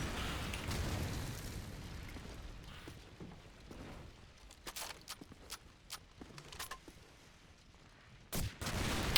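Gunfire in a first-person shooter game during an esports match, heard as quiet, scattered sharp shots and bursts over a low, busy game background, with a louder cluster near the end.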